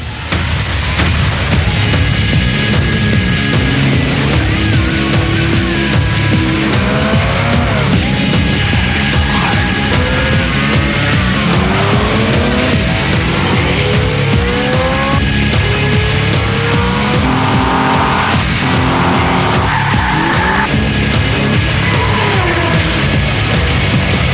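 Race car engines in Forza Motorsport howl through rising and falling gear changes, with tire squeal, loud and continuous for the whole stretch, layered with booming impacts.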